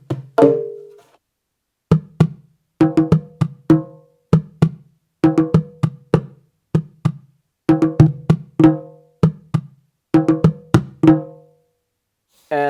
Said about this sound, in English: This drum, it's a Funde, and with this you are doing the heartbeat.